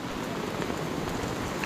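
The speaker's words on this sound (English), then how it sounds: "Okay, hailing again." Hail pelting down during a storm on the Baldy Mountain trail at Philmont, New Mexico, a dense continuous patter of close, hard impacts.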